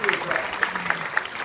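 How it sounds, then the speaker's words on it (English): Small zoo crowd applauding a bird-of-prey handler at an outdoor show, scattered claps with a few sharper pops, a voice talking over it. "How about a nice big round of applause for Dave?"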